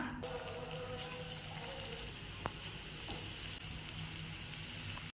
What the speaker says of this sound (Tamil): இப்போ சின்ன சின்ன பகோடாவாக போட்டுக்கலாம்